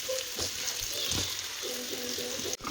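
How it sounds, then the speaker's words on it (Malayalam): Ingredients for egg biryani frying in a pan give a steady, close sizzle throughout, with stirring scrapes and a short clunk near the end. "ഇതൊക്കെ ഫ്രൈ ആയി വരുന്നുണ്ട്."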